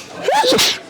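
One sharp, close sneeze sounds alone, a quick rising intake followed by an explosive burst, during a tabletop miniatures game.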